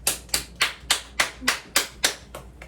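A dainty pageant-style clap, one hand smacking a raised palm, repeated about nine times in an even, brisk rhythm, close and crisp with no talk.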